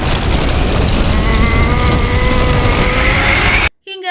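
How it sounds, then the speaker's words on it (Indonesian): Roaring storm at sea in the Avatar: The Last Airbender animated series, dense rain-like wash and rumbling noise with rising tonal wind whistles, loud and continuous, cutting off abruptly near the end. "Namun naas bagi Aang, badai besar di tengah laut menggulungnya dan membuatnya tenggelam."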